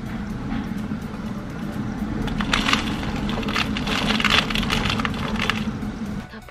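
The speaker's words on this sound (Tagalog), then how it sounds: "grabe yung tunog ng bagyo." Typhoon Hagibis wind and rain near Yokosuka, Japan: a dense, steady roar of gusting wind and heavy rain, loud and continuous throughout, with no voices.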